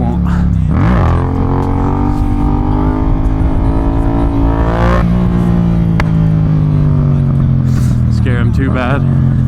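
A Yamaha MT-07 stunt motorcycle revs close by with short clutch blips, the engine note rising and falling in a few quick surges over a steady idle, with someone talking throughout.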